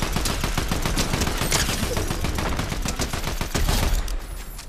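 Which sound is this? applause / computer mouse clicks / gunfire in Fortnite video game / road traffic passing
gunfire in Fortnite video game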